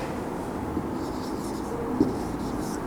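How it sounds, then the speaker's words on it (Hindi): Handwriting a Hindi word, a pen or marker scratching steadily across a writing surface under a constant noisy room background, with a couple of faint taps. "मैं वो शब्द लिख देता हूं।"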